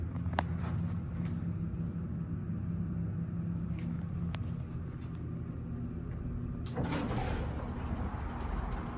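A modernized US hydraulic elevator's door slides shut, a steady low rumble and hum carrying through the cab before a louder clunk as the panels meet near the end.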